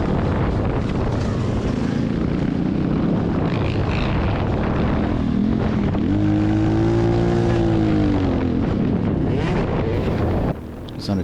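Motocross bikes racing in a veteran world championship event, with a loud, continuous engine roar, rising and falling revs and a clear pitched whine around the middle as one two-stroke bike passes close by amid wind buffeting.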